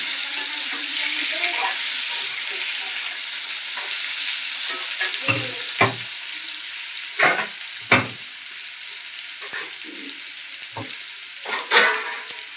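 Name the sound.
potato and papaya frying in a pan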